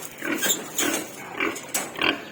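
Pigs in a backyard pig pen grunt in several short bursts spaced through the moment, close and moderately loud with no talk over them.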